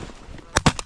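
A shotgun fires during a goose hunt in a blizzard: two sharp close blasts in quick succession, with a fainter report just after, over a steady wind-like rumble.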